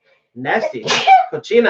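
One sharp, close sneeze bursting out amid speech, with talk continuing right after it.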